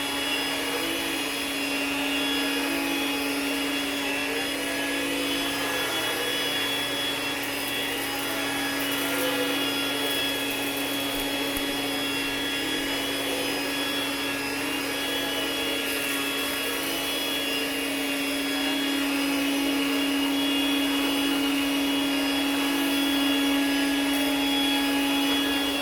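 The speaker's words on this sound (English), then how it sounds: "So does the vacuuming." A Rainbow E2 vacuum cleaner runs steadily and loudly up close, its constant motor whine and airy roar holding unchanged throughout, with no voices.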